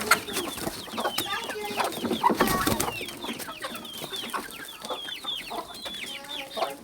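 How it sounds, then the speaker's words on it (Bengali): Domestic chickens cluck and chatter continuously at close range as they are let out of their coop in the morning. There are overlapping busy calls with a few louder squawks, and no talk. "মুরগিগুলোকে ছেড়ে দিচ্ছি।"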